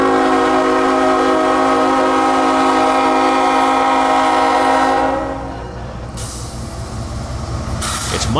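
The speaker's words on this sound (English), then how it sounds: "Slowly, the engineer begins notching up the lead engine, just enough to get it rolling and start pulling the slack out of the 175 cars behind him" A 432,000-pound lead locomotive of a heavy freight train hauling 175 cars notches up to start rolling, its loud sustained horn-like drone and rumbling engine dropping off partway through, leaving a steady mechanical roar with brief hissing bursts.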